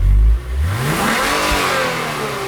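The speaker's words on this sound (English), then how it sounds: "this is the RC350 with the V6, so let's hear what that sounds like on the outside" A 2021 Lexus RC350 with its V6, heard from outside: a loud rev that rises and falls, then a steadier engine note that settles and holds near the car.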